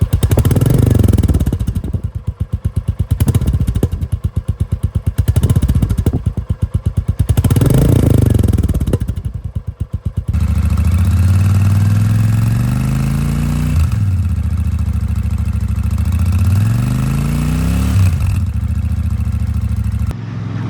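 A Royal Enfield Super Meteor 650 motorcycle engine runs loud and close, with a steady low idle broken by several throttle blips that rise and fall, then settles into a smooth, even drone.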